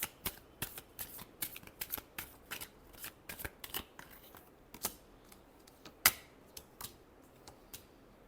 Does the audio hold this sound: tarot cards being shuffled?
yes